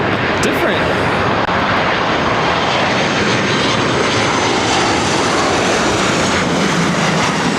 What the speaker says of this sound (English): This is United Airlines 2675 coming in from Houston Intercontinental on a 737-900 ER.